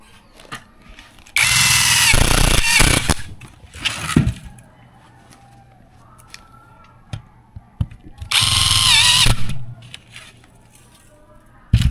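An Ingco impact driver drives screws into a window frame in two loud, close bursts of whirring and hammering, separated by quieter handling knocks and brief talk.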